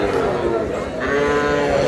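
Sahiwal cattle at a busy rural livestock market in Dinajpur lowing, a low sustained moo rising out of a dense crowd din of voices and market noise, close and continuous for about two seconds.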